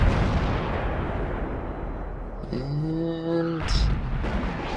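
Tank cannon fire in the World of Tanks video game: a dense, rumbling battle background with a heavy shot and ringing metallic tones near the end, a commentator's voice briefly audible.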